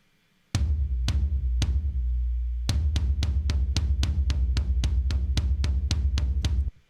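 Booming low drum hits from a deep sample triggered by a tom, a few spaced apart and then a fast, steady run of evenly timed strikes, each with a deep resonant body.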